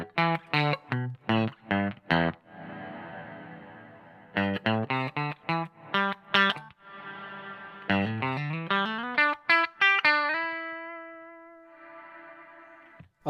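Electric guitar through a Mad Professor Kosmos reverb pedal at an extreme setting: quick staccato chord stabs and note runs, then a held note whose long, swelling reverb tail hangs on and slowly decays.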